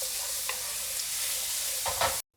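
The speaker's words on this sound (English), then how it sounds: "Next we'll add the minced garlic. And then we're going to cook this for about 10 to 15 seconds." Minced garlic frying in oil for an edamame dish, a steady close sizzle with a couple of brief stirring scrapes near the end before it cuts off abruptly.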